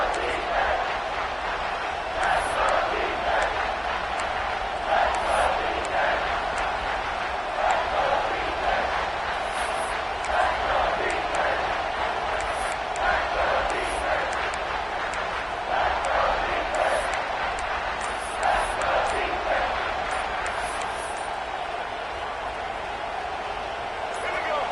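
A football stadium crowd roars steadily through a tense, tied late-fourth-quarter moment during a timeout, a dense sustained wash of cheering and shouting with occasional sharp whistles and louder surges, no single voice standing out.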